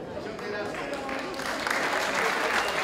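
A theater audience at an accordion music show applauds the performers, a continuous crowd clapping that grows louder, with voices mixed in underneath.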